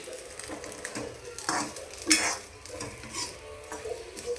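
Cleaned bombil fish fry in oil in a pan, giving a soft, close sizzle broken by stirring scrapes and light clinks of utensil against pan, with no one talking.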